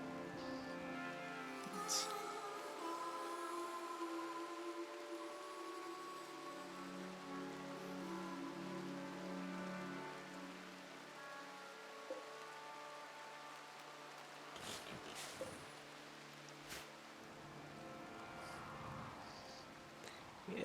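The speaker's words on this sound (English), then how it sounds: "Well, we got our rain at least." Steady rain falls in RimWorld, a soft continuous hiss layered over game music with tonal notes, with a few brief clicks and taps near the end and no one talking.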